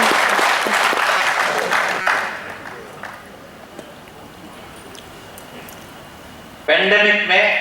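Audience applause at a Hindi comedy poetry gathering in a hall, loud dense clapping that tapers off after about two seconds into scattered claps, then a voice starts speaking near the end.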